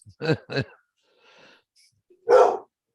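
Two quick, close barks from a dog, a pause with faint background noise, then a louder single bark, heard outdoors where squirrels roam.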